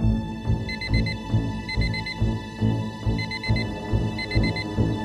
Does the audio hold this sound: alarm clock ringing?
yes